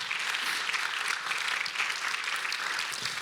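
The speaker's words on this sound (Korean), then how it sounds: "우리 한번 박수 한번 하나님께 쳐드릴까요?" A church congregation claps for God during a Sunday worship service, a steady wash of moderate applause with no speech.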